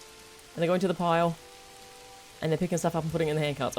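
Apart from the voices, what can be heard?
rain falling in a medieval strategy city builder video game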